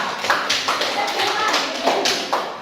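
Students in a classroom give a short round of applause for a presenting group, heard as a series of sparse, uneven claps and taps spread over a couple of seconds, moderately close.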